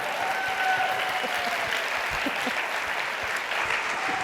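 Audience applause at a screen industry conference event, a dense sustained clapping from a sizable crowd heard close and loud throughout.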